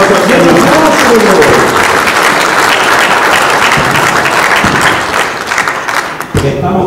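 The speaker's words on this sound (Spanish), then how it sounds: "Un aplauso a Dios" Guests at a wedding celebration applaud loudly, a thick sustained roar of clapping with a few shouts at first, tapering off near the end.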